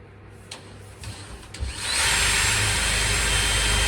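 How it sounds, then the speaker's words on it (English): A power drill fitted with a hole cutter bores through the steel of a narrowboat. A few short taps come first, then the cutter bites and settles into a loud, steady grinding whine that fills the rest of the clip, close by. "Right, so I'm using this hole cutter to get through here."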